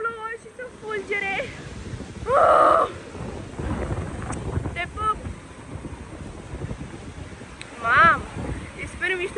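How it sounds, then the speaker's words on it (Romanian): Rain falls during an outdoor thunderstorm, and wind buffets the microphone with rumbling gusts. Heavy noisy bursts rise at times over a constant rough wash, while a person talks excitedly in Romanian throughout. "a început să plouă și să fulgere"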